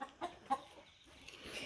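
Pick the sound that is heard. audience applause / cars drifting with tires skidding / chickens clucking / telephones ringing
chickens clucking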